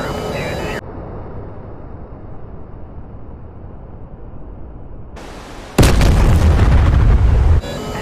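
Ship explosions at a cargo port in DCS World, a sudden loud, broad blast burst after a stretch of muffled low rumble, ending abruptly.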